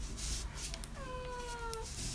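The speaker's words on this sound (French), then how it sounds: "On a Kiwi qui miaule" A cat meows once in a drawn-out, wavering call near a home kitchen, over a steady background hiss of room noise.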